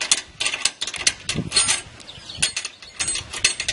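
A TrailerMate trailer hitch mechanism gives a series of irregular close clicks, ratcheting rattles and rubbing metallic clunks as its pressure is released.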